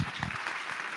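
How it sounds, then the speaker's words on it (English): Brief burst of audience applause at a business talk, steady dense clapping filling the whole second at moderate volume with a faint voice underneath at the start. "So can we get a round of applause?"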